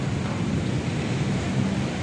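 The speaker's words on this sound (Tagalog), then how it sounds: "MacArthur, lakas ng ulan dito." Heavy rain pours steadily outdoors as dusk settles, a dense, continuous hiss and roar with no voices, loud and constant throughout.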